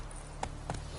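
Hooves of Geralt's horse Roach in the video game Witcher III, a few soft clip-clops spaced over a second against a low steady background hum.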